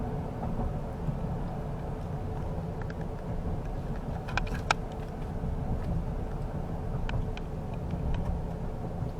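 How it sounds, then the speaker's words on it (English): A 2018 Chevrolet Silverado 1500 Crew Cab LTZ pickup rolls along a road with a steady low rumble of tires and cabin noise, and a few faint knocks and thumps come as it passes over bumps. "Going over some of the bumps we are right now, you hardly feel them. You can hear them, but you don't feel them too much at all."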